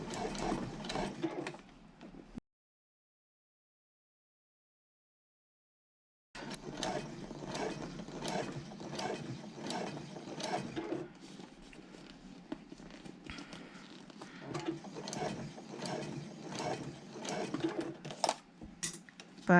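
Domestic sewing machine topstitching the front of a handbag, stitching slowly around a curved dip, a steady close mechanical whirr that stops for a few seconds and then resumes, with faint low background noise throughout.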